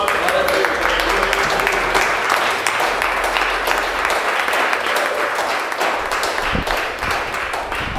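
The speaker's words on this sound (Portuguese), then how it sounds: "As palmas é para Deus." A church congregation claps for God, steady loud clapping from many hands with voices and a low musical hum underneath.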